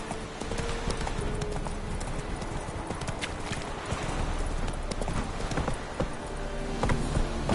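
Hooves of Roach, Geralt's horse in a video game, clip-clop in a steady trotting rhythm, close and clear against a busy background, with a brief whinny-like sound.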